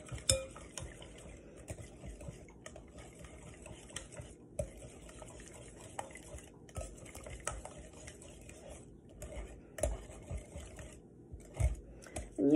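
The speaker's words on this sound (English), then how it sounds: "whisk until well combined." Banana nut muffin batter being whisked in a bowl, a quiet, continuous run of light clinking and scraping taps from the whisk against the bowl, close by with no voices.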